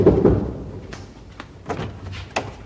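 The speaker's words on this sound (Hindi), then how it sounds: "कितनी देर करते हो तुम लोग दरवाजा खोलने में?" A front door in a home is handled, with a loud thud at the start and then several sharp knocks and clacks of the door and latch, close by and without talk.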